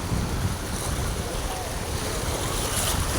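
Rough, churning sea surf breaks right at the edge of a beach, a continuous loud roar of crashing water mixed with gusty wind buffeting the microphone.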